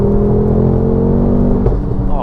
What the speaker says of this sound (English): every time you come off the exhaust, you get this sort of ferocious pop